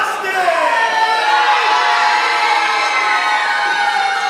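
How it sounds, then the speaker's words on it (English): A wrestling tournament crowd in Columbus roars continuously, a loud, sustained mass of cheering voices with no break for the whole stretch. "I am not surprised to hear the roar of the crowd from Columbus"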